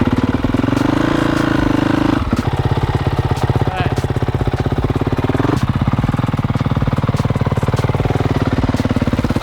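Dirt bike engine running steadily at low revs as the clutch is eased out, a rapid pulsing thrum with a brief dip in pitch and a change in load partway through, close and loud, with no talking.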